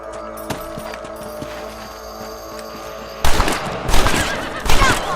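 Rapid gunshots aimed at rabbits in the Red Dead Redemption game on PS3, a few sharp loud cracks in the last seconds after a quieter stretch of low background ambience.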